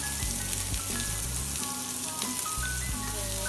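Chopped onions and green chilies fry in hot oil over a high flame, giving a steady, close, continuous sizzle with a few light clinks and stirring sounds and no talking.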